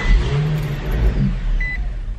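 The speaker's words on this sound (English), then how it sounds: "you turn the key all the way to start the car" An Infiniti G35 engine cranks and catches into a loud, rough idle that sags and wavers low as if about to stall out, heard up close with no voices.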